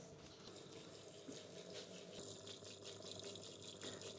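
A two-tier barrel water fountain's pump runs with only a little water in it, giving a steady watery churning and sucking hiss that stays fairly constant and close throughout.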